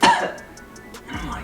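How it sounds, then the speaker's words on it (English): A single short, dry cough bursts out up close, followed by quiet ticking and a soft throat-clearing sound at the end. "I was having a small cough"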